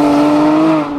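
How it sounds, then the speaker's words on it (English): A loud yellow BMW convertible tuner car leaving the Silverstone track, a brief, close, steady engine drone with a strong tonal hum that eases slightly at the end. "Blue tin convertible. BMW F1."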